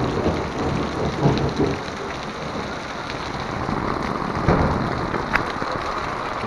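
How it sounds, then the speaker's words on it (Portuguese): Heavy rain pours on a street in Bangu on the first Sunday of 2018, a dense, constant patter with a few louder splashes and a low rumble underneath. "A chuva em Bangu."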